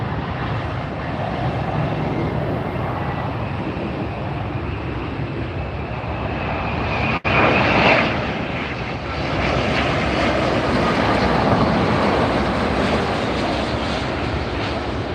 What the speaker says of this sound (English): not just any Lufthansa 787 Dreamliner